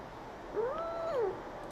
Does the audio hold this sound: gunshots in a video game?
no